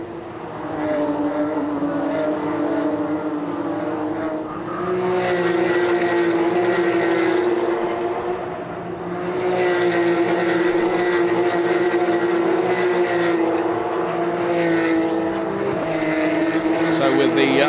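Porsche Carrera Cup race cars roar past on the dry Nürburgring circuit, a loud, continuous engine drone that rises and dips as the cars pass, with no pauses.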